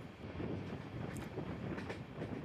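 A train runs along the tracks, heard from inside an air-conditioned 3-tier coach, with a continuous low rumble and soft rhythmic clatter from the wheels that stays muffled and steady.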